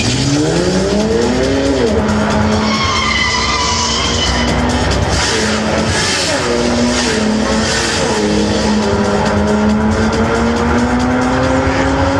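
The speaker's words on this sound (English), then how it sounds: "we have a nice video when Dino Lunardi, our GT3 race driver, has driven the car 2 weeks ago" An ALPINA B3 GT3 race car driven on a track in Slovenia, its engine loud and near, climbing and holding high revs through gear changes, with tire squeal and road rush throughout.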